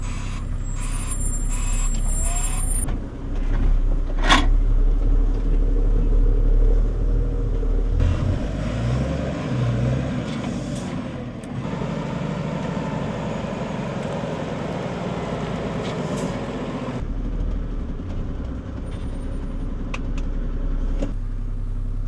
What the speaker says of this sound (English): I'll put the vehicle into reverse and I'll take my foot slightly off the brake